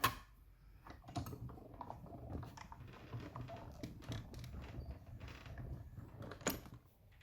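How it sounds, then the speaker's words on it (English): A die-cutting machine presses a small paper sprig through a cut, a steady mechanical churning with creaks and clicks over several seconds, close by and fairly quiet. "we're gonna add our little sprig and give it a cut"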